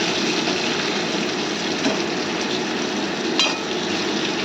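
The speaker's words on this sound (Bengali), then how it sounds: "লবণ হলুদ একবারে দিয়ে ভাজছি আজকে পটলটা" Pointed gourd frying in oil with salt and turmeric gives a steady, close sizzle and hiss that holds evenly throughout, with a faint scrape partway through.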